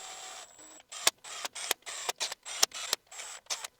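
A power tool drives in oiled connecting rod bolts during an N43 engine bottom end rebuild, a rapid run of short whirring bursts and clicks, close and steady with no talk.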